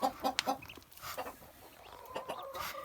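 Chickens cluck in short, soft bursts at a moderate distance, a few scattered calls with quiet pauses in between.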